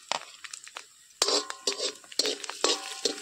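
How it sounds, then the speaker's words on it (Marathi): Cashews and almonds being fried in ghee in a pan, with a spoon scraping and clinking against the metal in short irregular strokes, close up and fairly faint, no talking. "मी हे काजू आणि बदाम तळून घेते या तुपात."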